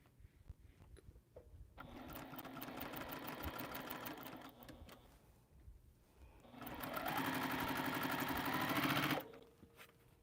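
A sewing machine runs in two sustained bursts, the first about four seconds and the second shorter and louder, with a quiet pause between them and a soft mechanical whir and stitching clatter throughout.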